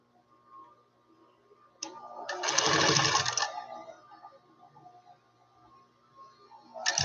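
A high-speed sewing machine sews fabric in a loud burst of rapid whirring stitching lasting about two seconds, followed by quieter mechanical ticking and another brief start at the end.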